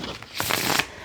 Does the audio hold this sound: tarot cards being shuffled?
yes